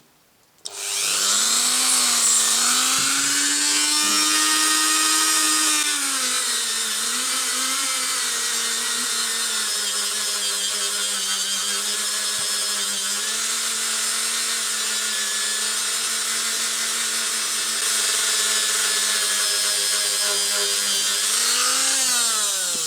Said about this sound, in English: Got my paste and my Dremel with a polish head on it.